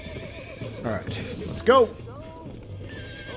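A horse in the Red Dead Redemption video game (PS4/PS5 port) gives a short, loud whinny near the middle, with faint hoof clops and game ambience around it while someone speaks briefly.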